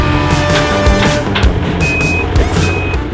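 Trucks rolling in at a pole barn construction site beside a home, with a reversing beeper repeating and heavy engine rumble throughout, a loud steady mix of motors and beeps close by.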